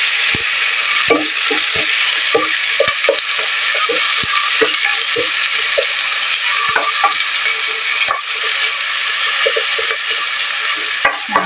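Onion, green chili and tomato sauté in a pan with a constant loud sizzle. A spatula scrapes and taps against the metal in irregular strokes throughout, close up, with no talking.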